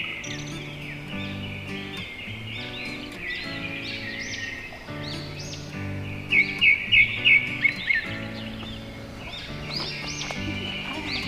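Birds sing and chirp continuously at Umbarli bird sanctuary, a hilltop near Dombivli, with layered calls, a bright burst of rapid repeated notes midway, and steady background music.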